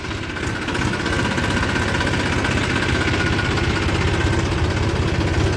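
A tractor engine idling on a farm field, a close, steady low rumbling chug with a regular knocking pulse that holds evenly throughout.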